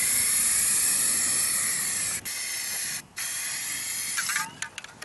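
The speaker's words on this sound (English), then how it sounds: "So I'm going to get this stuff degreased." Aerosol degreaser sprayed onto metal steps in long continuous hissing bursts, broken by two short pauses and then a few quick spurts at the end, close and loud.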